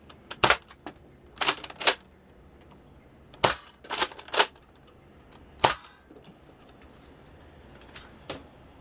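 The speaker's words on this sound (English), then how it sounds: "that was the firing demo of the modified Nerf BASR-L" A modified Nerf Fortnite BASR-L sniper blaster fires from a 15-round magazine, giving sharp, close snapping shots with irregular pauses, some in quick pairs, against a quiet background.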